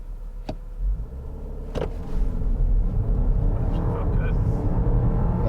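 A 2022 Jeep Grand Cherokee 4xe SUV accelerating hard in hybrid mode from inside the cabin, a couple of sharp clicks followed by a steadily building low engine rumble, with a person talking over it.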